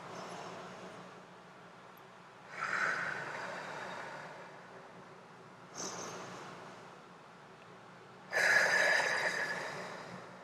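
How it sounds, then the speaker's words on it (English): Three deep, audible breaths come at slow, even intervals during a seated, standing or lying energy-healing exercise for insomnia. Each breath is a broad, close airy rush, and the last is the loudest. Quiet gaps separate them, and no one speaks. "Let's just take a few breaths."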